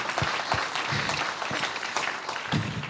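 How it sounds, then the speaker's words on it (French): An audience at a welcome gathering claps steadily for the newcomers, dense continuous applause at close range with no talk over it. "Ouais, on peut les acclamer."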